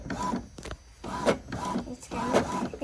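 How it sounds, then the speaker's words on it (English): A home printer works in repeated mechanical passes, whirring and clicking in bursts about a second apart, fairly close and moderately quiet, with faint voices in the background. "Here's our printer."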